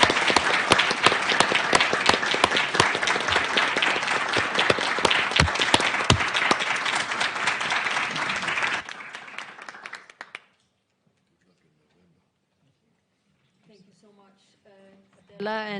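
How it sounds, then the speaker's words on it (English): A full round of applause from a large audience, dense and sustained for several seconds before fading out into near silence. "Can we give her a round of applause?"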